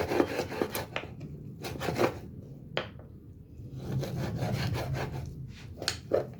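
Bone-in beef is cut by hand for kaddu gosht, giving rhythmic rasping, sawing strokes close up with short pauses and sharper scrapes as the blade works through meat and bone, and no voices.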